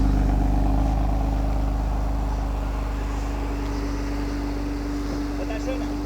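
BMW M2 CS engine running on a race circuit, a steady droning hum heard throughout with wind noise.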